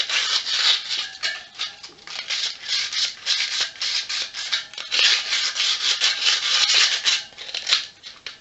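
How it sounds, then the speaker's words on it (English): A bike rim is sanded by hand with 120 grit sandpaper, giving a close, continuous rhythmic rasping that rises and falls with each stroke, with no voices. "I sand across all the way around"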